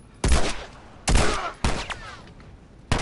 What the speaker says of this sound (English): I didn't shoot him once in the face